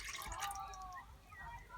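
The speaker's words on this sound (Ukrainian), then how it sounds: "До води я додаю яблучний оцет" Apple cider vinegar poured into water to make a marinade, a short, close trickle and splash of liquid into a pot, with soft dripping and no talk over it.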